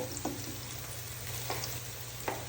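Garlic sizzles in a pan in a steady, moderate fry, with a few brief stirring scrapes punctuating the hiss.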